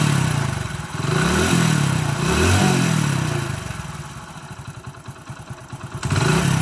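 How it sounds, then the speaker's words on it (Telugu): A motorcycle engine runs steadily close by while a village bike mechanic checks it, with no smoke showing. The clattering mechanical beat stays even throughout, swelling slightly in a couple of brief revs, with no voices. "బండి ఇంజన్లో ఎలాంటి సౌండ్ వస్తుంది అనేది మీరు కరెక్ట్గా అయితే వినండి"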